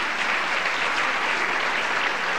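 A theater audience applauds as Natasha is called to the stage at a comedy show, a dense, even wash of clapping from many hands with no break, heard alone at steady volume.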